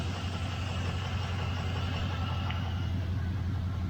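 A 1968 Chevelle Nomad V8 idles close by with a possible coil misfire, a steady low rumbling drone at moderate level, without speech.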